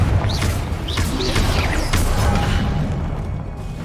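A Confringo blasting spell in the game Hogwarts Legacy on PS5 goes off, giving loud booming crashes and explosive bursts layered over continuous combat noise.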